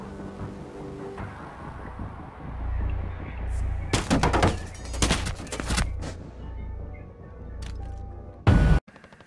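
Gunshots in a video game ring out as a cluster of sharp, loud cracks and rapid bursts over low rumbling background noise, with a final heavy blast at the end and brief talk early on.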